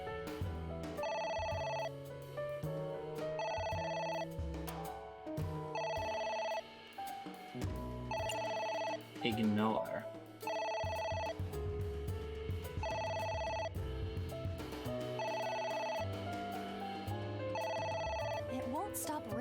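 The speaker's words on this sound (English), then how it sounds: "It won't stop ringing." A telephone in the video game AI: The Somnium Files rings repeatedly in regular bursts across the whole stretch, loud and insistent over game music, with voices talking underneath partway through.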